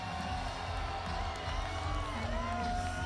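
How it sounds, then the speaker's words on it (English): A big arena crowd at an LFA mixed martial arts event gives a sustained roar and cheering as a fighter walks to the octagon, with a commentator talking over the distant din. "the ovation of this enormous crowd"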